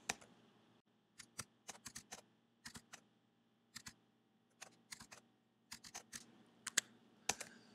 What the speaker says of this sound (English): So you type them in, and you press Enter after each one that you type in.